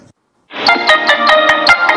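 A phone ringtone for an incoming call starts after a brief silence: a bright, repeating electronic melody with a steady pulsing beat, loud and close, with no voices.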